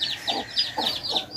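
Newly hatched chicks cheep in rapid, repeated high peeps while a hen clucks low and soft beneath them, close and quiet, with no talking.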